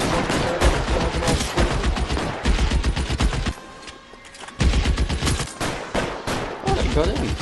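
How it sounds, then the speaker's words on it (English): Gunfire rattles in a video game rooftop shootout, dense rapid bursts of automatic weapons and overlapping shots, loud and nearly continuous with a brief lull midway, while voices speak faintly underneath. "Open fire!"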